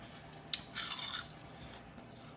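Baked kale chips crunch between the teeth in a few crisp bites, with one short snap followed by a louder, longer burst of brittle crackling, close up and otherwise quiet.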